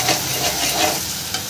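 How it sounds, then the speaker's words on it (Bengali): Masala being sautéed in a pan for a Bombay duck dish, a brief loud burst of sizzling and stirring, dense and close. "মশলাটা দেখুন অনেকটা প্রায় কষানো হয়ে গেছে, আর একটু কষবে"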